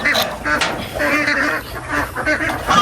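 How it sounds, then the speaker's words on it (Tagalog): A batch of about 34 larger farm ducks quack and honk noisily at close range while being fed, their calls overlapping in a continuous chatter. "Itong itik naman sa loob, yung mga medyo malalaki ng itik ang pakainin naman natin."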